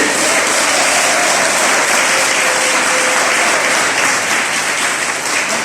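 A church crowd applauds Reverend Williams during a Methodist women's prayer celebration, dense and loud continuous clapping throughout, with a faint voice briefly audible beneath it.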